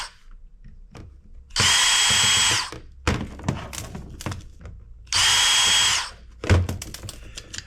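A power drill unscrews screws from scrap hard drives in two loud whirring bursts of about a second each, close up, with clinks, taps and thunks of metal parts being handled between them.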